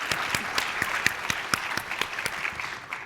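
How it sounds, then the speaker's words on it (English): Audience applause at a climate justice plenary session of a retreat, a brief, steady patter of many hands clapping, fairly close and even throughout. "yeah, please clap."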